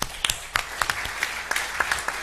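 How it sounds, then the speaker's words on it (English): An audience applauds after four presentations at an energy management and policy workshop, a dense burst of clapping from a full room that lasts about two seconds with no speech over it. "We need to applaud them."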